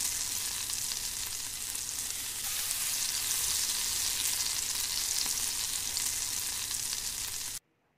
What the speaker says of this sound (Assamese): পিঁয়াজ তিনিটা কাটি পেলাই এয়া ব্ৰাউন হোৱালৈকে মই ভাজি ল'ম।